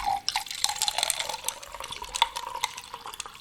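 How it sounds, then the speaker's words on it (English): Whiskey poured into a glass with ice, a continuous trickling, splashing stream with small clinks and drips, close and fairly loud, lasting a few seconds without talk. "And this is me pouring more whiskey into my glass."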